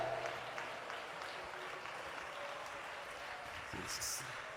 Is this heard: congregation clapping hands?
yes